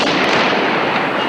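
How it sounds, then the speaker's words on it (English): Rapid crackling bursts of gunfire on the streets of Gaza during Palestinian factional fighting, a dense, loud, continuous clatter of shots with no speech over it. "Palestinian infighting erupts in gunfire on the streets of Gaza."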